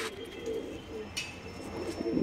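Pigeons kept for sale coo softly, a few low murmuring calls at a distance, with faint chirps and background hum and no voices.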